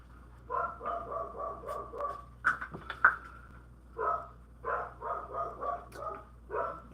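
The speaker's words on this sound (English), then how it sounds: "And now my dog goes crazy." A dog barks excitedly in quick bursts, a rapid run of sharp yaps, a brief pause, then more clustered barks, fairly close and clear over a quiet room.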